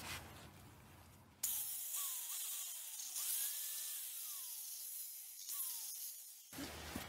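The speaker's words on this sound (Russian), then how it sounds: "Вот здесь небольшие сделать надпилы болгаркой, чтобы она прям села на посадочные места." An angle grinder cuts small notches into a brake caliper bracket for the rear calipers of a Mitsubishi Lancer 10, a whining, high-pitched grind with repeated short cuts between brief lulls, loud and close, with no talk.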